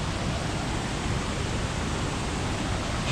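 Formosa waterfall on the Rio dos Cedros, a freshwater river, roars as a steady, loud, broadband wash of falling water with no break.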